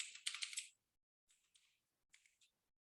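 Bursts of typing on a computer keyboard while entering a name: a dense flurry of quick keystrokes, then two shorter clusters of clicks, close and crisp with silence between.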